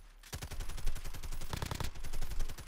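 In the Call of Duty Warzone video game, a gun fires rapidly through a wall, a fast, even burst of loud, close shots that keeps going throughout with a brief heavier cluster in the middle.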